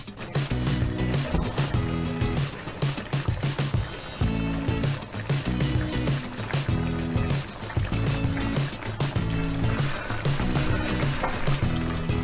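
Beef sizzles steadily in a pan as cognac cooks off, a close, continuous crackling fry with faint stirring and trickling sounds and no talking.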